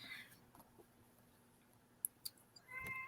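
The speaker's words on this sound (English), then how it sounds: "I gotta let my cat out real quick, Steve." A cat meows faintly in a quiet room, with a couple of soft calls and a few small clicks and taps.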